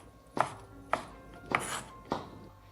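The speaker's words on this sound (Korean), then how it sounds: "이제 이 버섯은 잘게 잘라줄 거고요." Knife finely chopping soaked porcini and shiitake mushrooms on a board, four distinct crisp chops spaced about half a second apart, close and clear with no talking.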